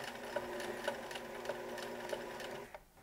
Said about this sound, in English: right along that seam, across the top there, a tight little zigzag stitch